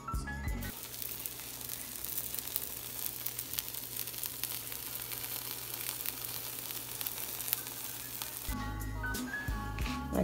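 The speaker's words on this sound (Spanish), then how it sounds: "ya está listo para poner en el comal" Pupusas filled with cheese and chicharrón sizzle on a comal, a steady close crackling fry that runs throughout, with brief clatter at the start and end.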